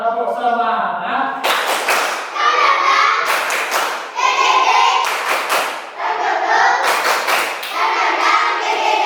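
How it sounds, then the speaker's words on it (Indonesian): A class of children standing in a classroom performing a rhythmic spirit clap: bursts of synchronized clapping in patterned groups alternating with shouted chanting voices, loud and close. "Tepuk semangat."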